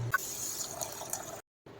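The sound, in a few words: washing millet (bajra) in water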